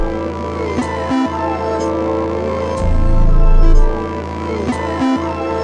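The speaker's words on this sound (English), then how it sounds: "it was just one of the bass one shots which I put into the sampler" A bass one-shot from the Street Love drum kit plays a single low note in a sampler, sustaining under a dense layered beat with a swelling low rumble in the middle, loud and close.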